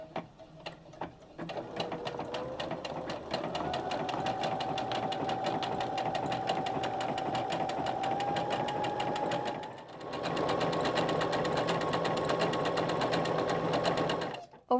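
A sewing machine stitches the side seams of a simple skirt, running as a close, steady mechanical whir for the whole stretch, with one brief dip in speed before it carries on.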